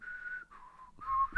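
A person whistles a short tune of several sustained notes, clear and close, with a brief rustle at the end.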